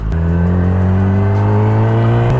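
A loud motorcycle engine drones close by in a small village with a strong, steady tone that climbs slightly in pitch, no voices.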